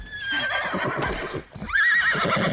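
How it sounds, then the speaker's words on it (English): Horse in Elder Scrolls Online giving a loud, close whinny, then a second neigh after a short pause, with clip-clop hoofbeats underneath. "My horse doesn't want to do anything."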